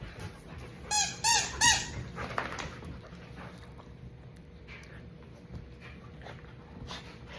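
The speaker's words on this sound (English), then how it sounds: "Beautiful dog." A light brown brindle shelter dog, resembling a bull terrier, gives a few high squeaky whimpers near the start, then softer shuffling and faint movement at close range.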